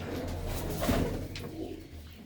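Domestic racing pigeons coo softly, a low throaty rolling call heard close but quietly, repeated once or twice against a light background hum without speech.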